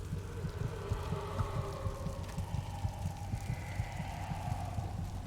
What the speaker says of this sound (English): I can hear the heartbeat again.